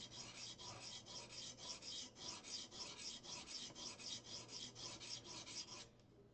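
A knife blade is stroked across the stone of a guided sharpening system in a steady back-and-forth rhythm, about two dozen quiet, even rasping passes close by, then stops.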